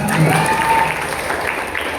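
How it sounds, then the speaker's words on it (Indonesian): A burst of applause from a crowd, steady clapping filling the whole moment, fairly loud and close. "Tepuk tangan."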